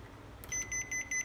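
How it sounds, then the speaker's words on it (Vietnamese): A Panasonic air purifier, brought in for repair, gives a click and then a run of short electronic beeps on power-up, crisp and close in a quiet room. "Bật điện lên, máy kêu tít tít."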